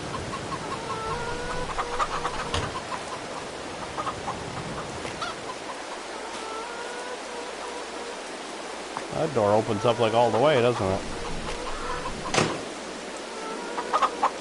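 Chickens in Farming Simulator 22 on PS4 cluck in a short run of warbling calls with another brief call later, under someone talking, with a steady stream-like hiss behind.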